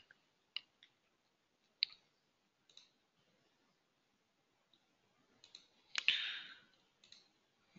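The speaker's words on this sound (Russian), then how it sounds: "Кликаем." Computer mouse clicks, sparse and sharp, some single and some in quick pairs, with a louder burst near the end, heard close and alone in a quiet room while a real estate agency website is being built.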